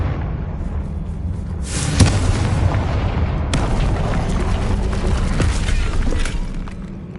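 Spell blasts from the Bombarda and Confringo charms in Hogwarts Legacy, heavy booming explosions with a sharp crack, then a second burst and rumbling debris that fades out.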